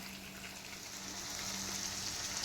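Masala frying in oil and ghee for prawn ghee roast, a faint, even hiss of sizzling that swells slightly as it goes, with no talking.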